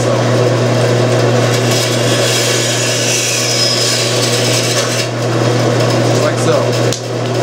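Bandsaw running and cutting material in a workshop, a steady loud hum with a rough rasping cut layered over it, continuous and close, with a brief dip near the end.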